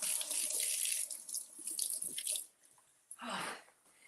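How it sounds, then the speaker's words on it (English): Water runs from a kitchen tap as a cucumber is rinsed under it, a steady close hiss for about two seconds before it stops, then a short second burst of flow near the end. "let's wash our cucumber and slice it"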